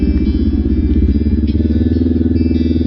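A Kawasaki Ninja 500 SE motorcycle rides off-road with a loud, close, steady engine drone and low rumble, constant throughout with slight rough fluctuations.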